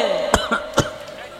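A person chokes after swallowing wrong and gives a few sharp, close coughs in quick succession, then a softer throat-clearing rasp.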